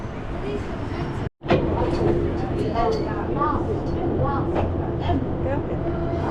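A train rumbles steadily with a low hum at an underground airport station at Paris Charles de Gaulle, voices talking over it, and a brief sudden dropout partway through.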